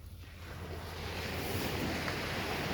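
Caribbean sea waves washing onto a Jamaican shore, a soft, broad hiss of surf that swells slightly over a few seconds, with faint wind noise and no voices.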